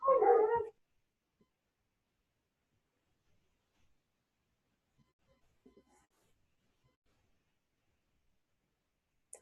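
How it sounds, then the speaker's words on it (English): A dog gives one short, loud bark right at the start, followed by long near-silence with only faint scattered noises. "The dogs are going nuts."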